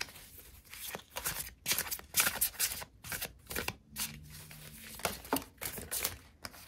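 Tarot cards are shuffled and pulled, making rapid riffling and slapping card sounds in dense bursts, close by, with short gaps and a soft soft-edged slide or two, no talk.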